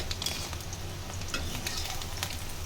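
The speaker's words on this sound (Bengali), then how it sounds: "এই যে লাল লাল করে ডিমটা ভেজে নেব দেখেন" An egg frying in hot oil in a pan sizzles continuously and close by, a steady crackle with faint popping throughout.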